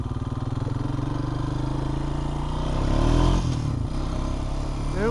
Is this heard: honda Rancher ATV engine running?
yes